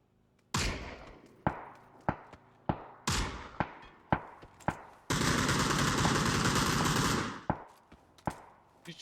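Gunfire from a moving buggy in the video game PUBG: a series of sharp, loud single shots with decaying echoes at uneven intervals, broken by a sustained two-second burst of rapid fire.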